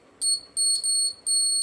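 Homemade battery-powered home security alarm buzzer giving four short, shrill electronic beeps in an uneven on-off pattern, close and alone over faint background hiss.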